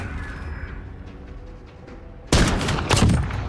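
Gunfire in a Call of Duty Modern Warfare multiplayer match: quieter ambient game sound gives way to a sudden loud, sustained burst of rapid shots in the second half.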